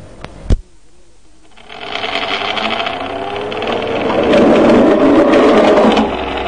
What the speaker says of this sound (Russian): Итак, я включаю вентилятор.